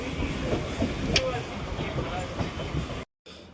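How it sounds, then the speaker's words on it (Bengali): A moving local train carries passengers toward Mogra station, producing a continuous low rumble and rattle of the carriage with a brief squeak, then a short cut-out near the end; a voice is faintly present. "এবারে দেখতে পাচ্ছ আমরা ট্রেনে করে যাচ্ছি এখন"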